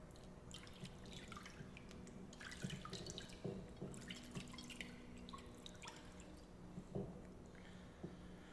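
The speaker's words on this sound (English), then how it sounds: "And so now let us wash our hands a third time" Water trickles and drips over hands at a sink during a ritual handwashing in a church service, soft splashes and drips coming in irregular bursts, fairly faint and close, with no talking.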